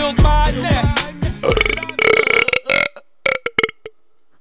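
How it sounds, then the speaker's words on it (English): A long, loud belch right after a meal of pizza and soda, close up and drawn out with a croaking rise, then breaking into a few short choppy bursts before it stops. "so I just ate pizza and soda, so I just burped"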